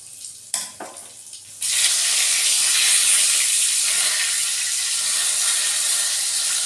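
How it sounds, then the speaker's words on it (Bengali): Bay leaf and whole garam masala hit hot oil with a sudden loud, steady sizzle that roars on after a few quiet kitchen clinks, for a village-style fish-head muri ghonto. "এই তেলেই তেজপাতা আর গোটা গরম মশলা ফোড়ন দেবেন"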